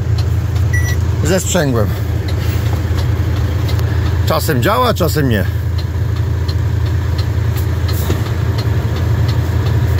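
A truck engine idles with a steady low rumble while its auxiliary rear drive is engaged; someone talks over the constant drone for much of the time.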